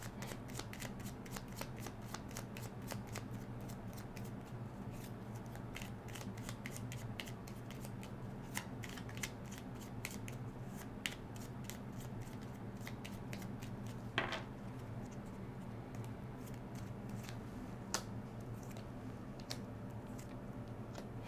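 Tarot cards shuffled by hand close up, a fast, continuous riffle of many light card flicks and slaps, quiet and steady throughout with no voices.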